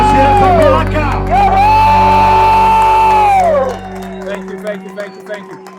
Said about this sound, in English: Let's hear it for Baraka.